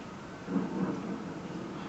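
Stormy weather in the video game Assassin's Creed 3, a broad low rumble of thunder and rain that swells midway through and then holds as a steady, fairly loud wash with no talking.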